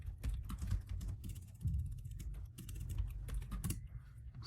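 Brisk, close typing on a computer keyboard as a prompt is entered, dense bursts of clacking keystrokes with brief pauses between them.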